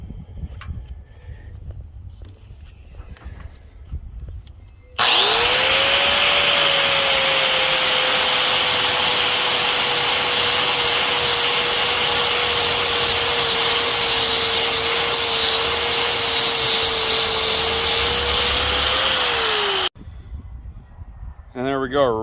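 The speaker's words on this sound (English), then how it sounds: "So I'm just going to take a sanding disc and knock this powder coat and everything and get it down to metal" A sanding disc grinding powder coat off the steel headache rack of a truck bed, a loud steady whine with harsh abrasive hiss lasting about fifteen seconds, bracketed by quieter talk before and after.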